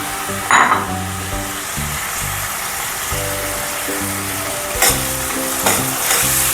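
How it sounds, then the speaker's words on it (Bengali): Ash gourd pieces frying in oil in a pan for a Bengali curry give a steady close sizzle, with stirring scrapes and a few louder crackles rising above it. No one speaks. "খুব ভালো করে একটু ভেজে নিই"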